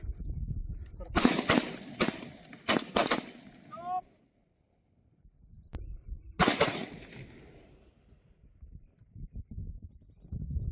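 Gunfire from border security forces shooting at Pakistani drones: two dense bursts of rapid automatic fire, a short pause, then another burst. The shots are loud and sharp, and a lingering echo and outdoor rumble follow each burst.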